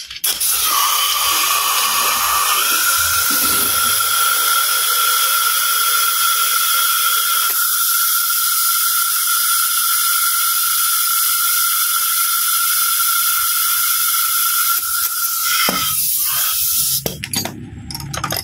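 Continuous loud hissing of air being pumped into a tire toward 33 PSI, with a steady mechanical whine and a few clicks near the end.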